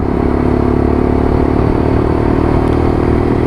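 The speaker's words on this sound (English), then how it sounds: "get a bit of engine noise, hear what it's like. It's got a very throaty sound to it." Close, throaty Lexmoto LXR-SE motorcycle engine rumbling steadily, with a rough, slightly rattly texture and no voices.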